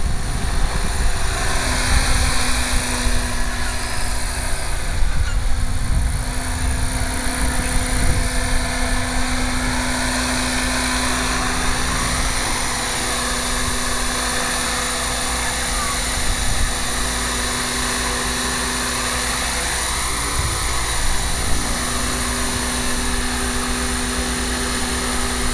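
Gaui RC helicopter flying on a 3000mAh 6S battery, heard close as a steady whining rotor and motor drone with a constant high tone, continuous throughout, with no talk.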